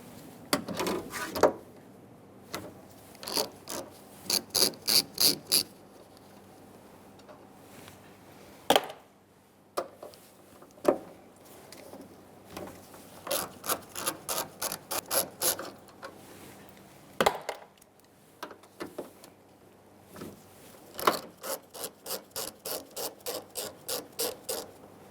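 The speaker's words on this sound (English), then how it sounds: "you're going to take out these 4 nuts using an 11mm socket" An 11mm socket on a ratchet backs off mirror nuts on a Ford E-350 Super Duty van, rapid rhythmic clicking runs repeated several times with pauses and occasional handling knocks, fairly close and moderately quiet.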